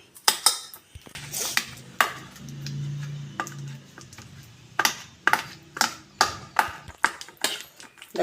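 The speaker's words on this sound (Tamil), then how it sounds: "கரண்டி பின்பக்கத்தை போட்டு இப்படி நல்லா மசிச்சு விடணும்" A spoon back mashes banana in a bowl, sounding as a run of sharp, regular taps and clinks of metal against the bowl with a brief low hum in between, close and without talk.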